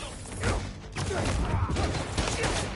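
Bursts of gunfire ring out in the Spider-Man 2 video game, sustained dense shots and impacts layered over game noise and someone talking throughout.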